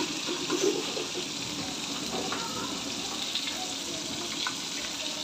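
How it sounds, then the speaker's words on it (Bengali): Food sizzles softly in hot oil in a pan, frying until reddish, with a faint steady crackle and a few light clinks and stirs, close by and with no voices. "লাল লাল করে ভেজে নেব।"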